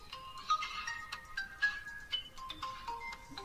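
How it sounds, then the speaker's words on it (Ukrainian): A phone ringtone playing a repeating electronic melody of short bright notes, moderately loud and close, pulsing in a steady rhythm with no voices over it. "Хочу продовжити, то телефон перебив"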